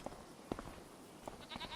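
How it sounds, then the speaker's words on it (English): Goats bleat inside the farming video game Farming Simulator 25. A few short, faint bleats are spaced apart over a quiet background. "Oh man, we got goats in this episode."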